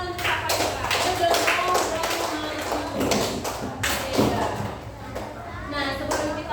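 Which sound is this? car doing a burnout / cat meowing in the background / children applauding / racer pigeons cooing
children applauding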